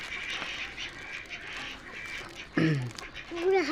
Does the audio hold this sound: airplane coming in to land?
no